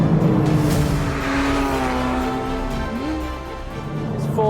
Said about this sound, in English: It's a car you really have to drive. And that engine suits that character.